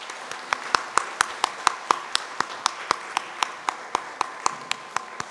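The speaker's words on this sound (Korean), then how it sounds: "여러분들 우리 격려의 박수 하겠습니다." Church congregation claps during a Sunday morning worship service, a sparse, evenly paced run of sharp individual claps rather than a dense ovation, with faint room noise between them.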